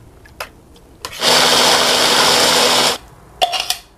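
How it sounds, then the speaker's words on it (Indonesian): Blender running on rice being prepared for dog food, a loud, close, steady whirring drone lasting under two seconds, framed by a few clicks and knocks before and after. "ini mau tak blender nasi"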